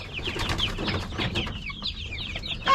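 Young white chickens in a roomy coop cluck and chirp in soft, overlapping calls, against a steady low background rumble.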